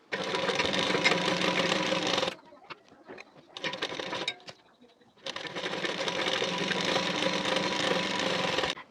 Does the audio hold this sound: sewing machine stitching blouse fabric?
yes